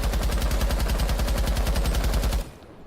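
Capitao's automatic rifle in Rainbow Six Siege fires one sustained, rapid burst of evenly spaced shots for about two and a half seconds, loud and close, then stops abruptly.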